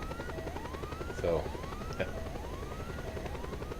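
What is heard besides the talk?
helicopter, from video game Just Cause 2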